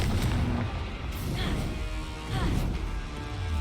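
Explosive spells land in the Hogwarts Legacy video game as a run of loud booming blasts and crashes, each bursting over dense, rumbling battle noise.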